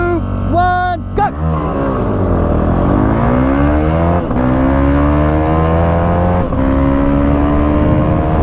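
An old 1979 motorcycle accelerates hard onto a freeway, its engine note climbing loud and close, then dipping briefly at each gear change before rising again.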